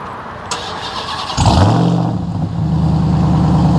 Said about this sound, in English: Just so you can get a nice little exhaust clip.